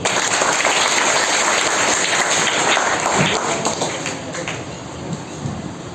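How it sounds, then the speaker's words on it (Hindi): An audience at a school Independence Day ceremony honouring a former soldier claps in a sustained, loud burst of applause that gradually thins out, with faint voices mixed in. "गौरी सर के लिए एक बार और तालियां।"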